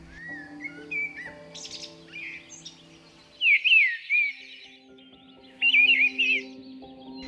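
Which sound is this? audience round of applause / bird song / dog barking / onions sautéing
bird song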